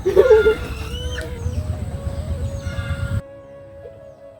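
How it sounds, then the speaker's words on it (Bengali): A hen caught from a village field lets out a short burst of loud, close clucking at the start, followed by quieter background noise and faint sounds. "মাঠ থেকে নানির মুরগি ধরে নিয়ে আসলাম"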